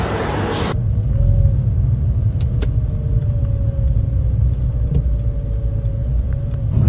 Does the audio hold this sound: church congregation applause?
no